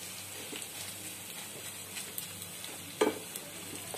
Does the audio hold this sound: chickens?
no